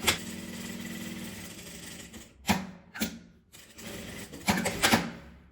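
A domestic sewing machine stitches the sides of a small fabric lining for a mini coin-purse keychain, running in a steady whirring burst, then stopping and restarting in short runs with clicks between.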